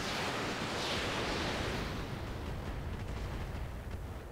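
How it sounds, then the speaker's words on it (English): Mech weapons fire all at once in the BattleTech RogueTech video game, producing a loud, dense roaring blast that rumbles and slowly fades over several seconds. "We're just going to fire everything here. All weapons, fire."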